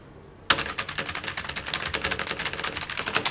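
Fast typing on a computer keyboard with no screen attached, a dense run of sharp clattering keystrokes that starts abruptly after a brief quiet moment and goes on without speech.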